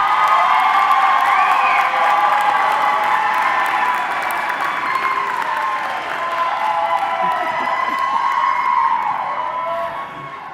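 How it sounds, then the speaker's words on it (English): A commencement crowd at a health sciences graduation applauds and cheers for the class graduate speaker, a dense, sustained wash of clapping with whoops and voices that holds strong for ten seconds before easing slightly. "Let's give Jocelyn a round of applause,"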